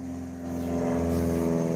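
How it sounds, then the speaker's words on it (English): Small propeller plane flying overhead in quiet North Georgia countryside, a steady droning hum that swells slightly and holds, heard alone without talk. "little prop plane flying above us."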